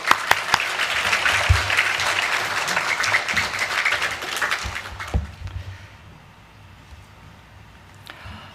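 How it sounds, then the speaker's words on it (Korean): A church congregation bursts into loud applause that holds steady for several seconds, then quickly fades to scattered claps and quiet. "한 번 더 큰 환영의 박수로 함께 모시겠습니다"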